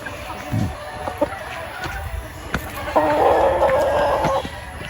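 A young white kelso gamecock stag clucks and calls among farm fowl, with short scattered clucks and one longer, louder call in the second half, heard fairly close over light background noise.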